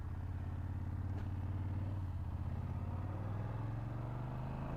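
A BMW F800GS motorcycle engine drones steadily while riding, a low continuous hum with faint wind and road noise underneath.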